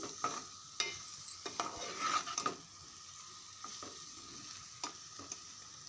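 A broad bean and tomato curry is stirred in a pan, with soft sizzling broken by repeated spoon scrapes and clinks, close and fairly quiet, with no voices.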